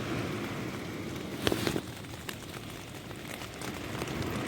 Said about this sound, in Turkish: Yağmur yağıyor açamıyorum şu içeriye damlıyor.